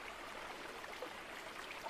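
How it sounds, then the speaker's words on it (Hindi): A mountain river runs steadily past in a broad, soft rushing wash, continuous and even, heard faintly from a short distance with no voices. "बहती हुई नदी, उसकी आवाज़ हम महसूस कर रहे हैं।"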